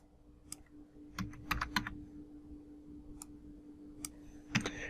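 Computer keyboard typing a fraction into an equation editor, a quiet scattering of sharp key clicks in irregular bursts over a faint steady hum.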